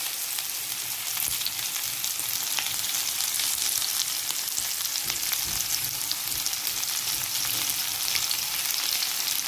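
Beef and carrots sizzle in a pan, a steady bright crackling hiss with small pops, continuous and close with no talk.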